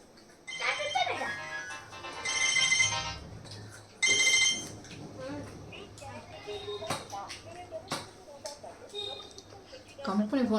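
A mobile phone rings with a repeating melodic ringtone during a company call, sounding through the clip under ongoing casual talk at a home biryani eating challenge.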